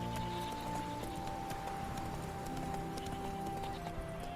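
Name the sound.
horse Roach galloping in the video game Witcher 3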